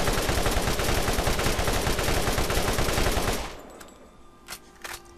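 Dense, rapid weapon fire from a burst-fire gun in the shooter game Borderlands rattles loudly without pause for over three seconds, then cuts off, leaving quiet game ambience with a couple of faint clicks.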